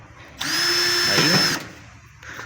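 Power drill backing out screws from the rear motor cover of a Daewoo washer-dryer, one steady whirring run of about a second with a pitch shift as it loads, preceded and followed by quiet room noise.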